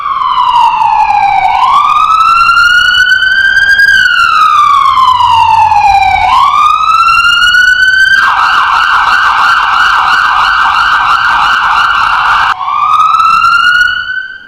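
An ambulance siren wails loud and close, sweeping slowly up and down in long cycles, then switching to a fast warbling yelp before returning to the slow wail, with no voices.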